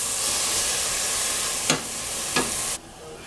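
Sauce for hot shrimp in soy sauce sizzles in a pot as it is whisked, giving a steady hiss with two brief scraping strokes before the sound cuts off abruptly.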